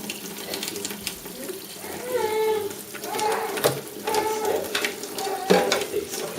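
Water runs into a bowl being used for washing, a continuous close splashing and trickling that swells in the middle, with faint child-scale movement noises alongside.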